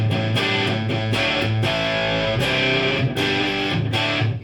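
Fuzzy distorted electric guitar chords through a 1967 Vox Super Foundation Bass solid-state amplifier, played in a choppy rhythm with gritty, buzzing overdrive.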